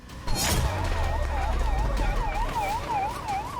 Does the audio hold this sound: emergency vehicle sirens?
yes